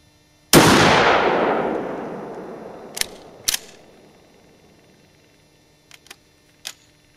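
A Mossberg 12 gauge pump shotgun fitted with a JetBeam RT2 Raptor flashlight fires one loud, sharp blast that rings out and decays over several seconds, followed by a few short clanks as the pump is worked.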